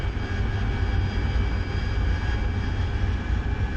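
An AV-8B Harrier II jet engine in the DCS World flight simulator roars as the aircraft shifts to jet-borne flight off the USS Tarawa, a loud, continuous whine and rumble with no speech.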